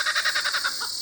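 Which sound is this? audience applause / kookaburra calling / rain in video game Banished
kookaburra calling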